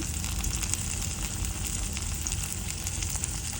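Turmeric and chili powder fry in a pan for a jackfruit seed and chepa shutki dried fish curry, giving a steady, close, even hiss of oil with no break.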